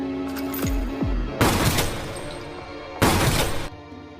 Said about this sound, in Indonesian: Tak diduga, Scarface menembaknya hingga Jian pun tewas.